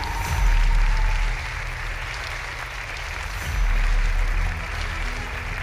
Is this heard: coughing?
no